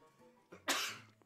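A single sharp sneeze bursts out over quiet background hum, preceded by a brief intake of breath.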